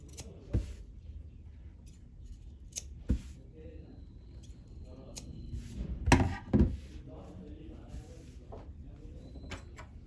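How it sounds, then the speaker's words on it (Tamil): Scissors cutting blouse fabric for a sleeveless keyhole design, with a few sharp snips spread across quiet stretches and a cluster of louder cuts near the middle, close by. "இங்கே இந்த மாதிரி ஸ்ட்ரைட்டாக வெட்டிக்கோங்க."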